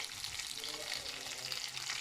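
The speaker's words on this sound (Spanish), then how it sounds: "Le vamos a bajar un poco para que se vaya friendo poco a poco." Oil sizzling steadily in a pan over lowered heat as tomato is fried slowly for red pipián, a continuous dense crackle that stays even and close throughout.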